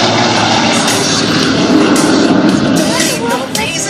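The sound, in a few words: one-of-a-kind jet aircraft passing by at an airshow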